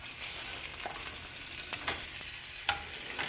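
French toast frying in a pan, a faint steady sizzle with a few sharp pops and crackles breaking through, no talking.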